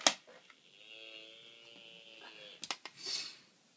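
A person imitates a cow with a drawn-out, nasal mooing tone that holds for about two seconds, followed by a few short clicks and breathy noises. It sounds close and fairly quiet.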